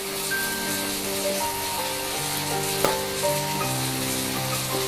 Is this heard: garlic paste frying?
yes